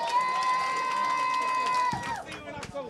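Crowd at a UBA Battle Bowl tour stop finals bowling match erupts into cheering and shouting near the end, after a long sustained tone, with voices mixed into the swell.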